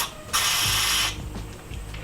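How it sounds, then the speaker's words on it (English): A flat blade screwdriver prying and twisting a stock rubber grip off the handlebar of a Yamaha XSR900 (MT-09), giving close ratcheting, squeaky scraping bursts followed by a few softer creaks and taps. "Eventually I got to the point where I could use a flat blade screwdriver, which gave me a little bit more leverage."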